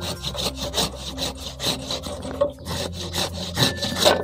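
A hand saw cuts through a tamarind branch cutting being trimmed for bonsai, with steady, rhythmic back-and-forth rasping strokes, close and continuous with no talk.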